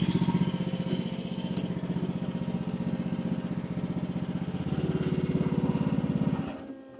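A 1-ton Chinese mini digger's engine idles at low RPM with an even, loud putter and clatter, steady for several seconds before dropping away abruptly at the end.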